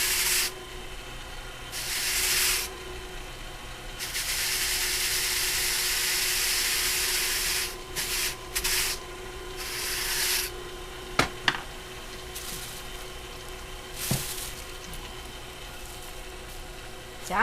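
Silk and alpaca fleece being hand carded for spinning, cleared with a burnishing brush: long, close, breathy brushing strokes, some sustained for several seconds and others short and choppy, with a few sharp clicks in between.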